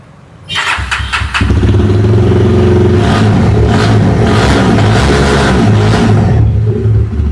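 A used 2024 Jawa Perak motorcycle with about 5,900 km on it starts up close by, then settles into a loud, steady, throbbing engine note that holds for several seconds with slight revs before cutting off.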